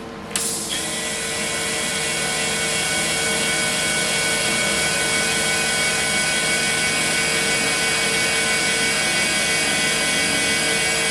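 Wire feeds from a Lincoln 215 MPi MIG welder through the hose toward the torch, a continuous whirring motor drone that starts abruptly and holds steady for several seconds, with no talking.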